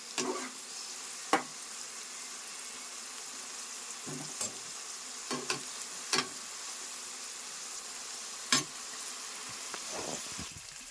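Broad beans frying in a pan for a chutney give a steady, soft sizzle, broken by a few sharp clinks of stirring spaced throughout.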